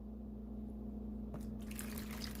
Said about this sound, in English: we're gonna add in some water